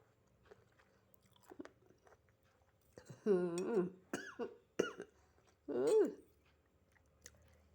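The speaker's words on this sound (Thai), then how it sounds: "กระแอมกระไอ" Several close, harsh coughs and throat-clearing rasps come in short bursts separated by quiet pauses, with faint smacking sounds between.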